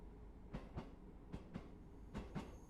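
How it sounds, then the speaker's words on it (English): A train in Train Sim World 2 on the Cathcart Circle Line rolls over rail joints, giving paired clickety-clack beats at a regular pace over a quiet, low rumble, with no talking. "A lot of trains here."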